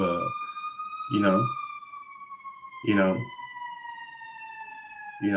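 A siren, taken for an ambulance, wails outside in a neighborhood with a steady, slowly falling tone throughout, while someone talks in loud bursts over it.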